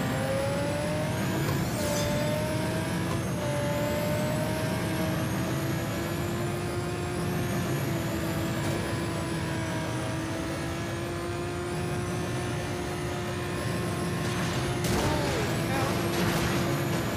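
Lamborghini Murciélago accelerating on nitrous in the racing game Need for Speed: No Limits, a steady high engine whine holding a sustained pitch for the whole stretch, loud and continuous with no talk over it.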